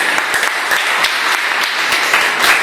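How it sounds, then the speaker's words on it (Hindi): A seminar audience gives loud, continuous applause, a close, dense crackle of many hands clapping with no pauses. "एक बार जोरदार तालियां।"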